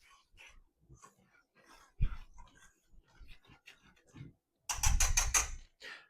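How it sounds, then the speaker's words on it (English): A whisk stirs dry pancake batter ingredients, including salt and baking soda, in a bowl. Faint, sparse scrapes give way to a brief run of quick rhythmic clinks near the end. "now we are going to whisk this together."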